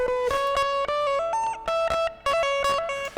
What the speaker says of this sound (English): you start hearing a sort of fuzzy overtone on there. That is part of the compression.